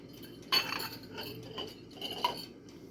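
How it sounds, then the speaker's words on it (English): Two eggs being whisked for an egg wash for eggplant parmesan, with a fork or whisk clinking against the bowl in a few irregular taps and scrapes, fairly faint and close. "2 eggs that I'm gonna whisk up for an egg wash"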